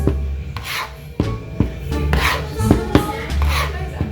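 Homemade pasta dough of eggs and oil being mixed by hand, rhythmic rubbing and scraping strokes with soft knocks, close and fairly loud.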